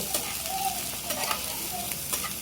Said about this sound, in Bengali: কাঁচামরিচ পেঁয়াজটা ভালো করে ভেজে নিব।